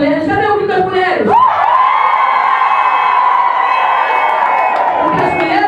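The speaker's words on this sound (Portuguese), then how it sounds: "Das mulheres, cadê o grito das mulheres?" Women at a political party convention in Salinas da Margarida, Brazil, let out a loud, sustained shout and cheer that holds for several seconds, close and overpowering.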